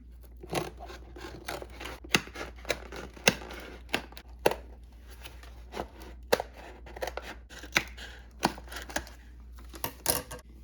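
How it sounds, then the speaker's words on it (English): Panel being pried and cut off a pearl oyster mushroom growing kit, a series of sharp crisp snips and scrapes of cardboard and plastic, close and fairly loud, in an irregular rhythm with no talk. "first thing we have to do is take off this little panel here."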